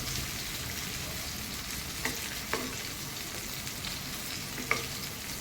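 Boneless chicken 65 frying in a little oil at home and being turned: a steady, even sizzle throughout, with a few faint spatula taps breaking through.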